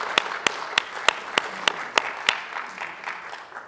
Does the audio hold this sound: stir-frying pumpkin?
no